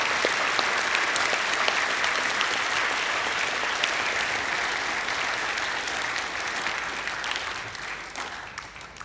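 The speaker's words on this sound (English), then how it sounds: "Can we please give these boys a round of applause?" At a school end-of-year assembly, a hall full of people gives a group of students a round of applause, loud and close at first, then gradually thinning and quieting toward the end.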